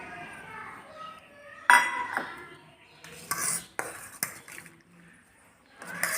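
Spoon stirring ground sugar, pepper and cardamom into a junnu mixture in a vessel, with intermittent clinks and scraping against the pot, several bursts of clatter between quieter stretches.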